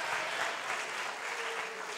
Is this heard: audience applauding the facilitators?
yes